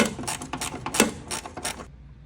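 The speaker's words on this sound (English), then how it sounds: "now it's just simply taking and loosening both of these bolts" Battery tray bolts on a 1966 Lincoln Continental are loosened with a tool, a rapid run of close metallic clicks and rattles lasting under two seconds before it goes quiet, with no talking.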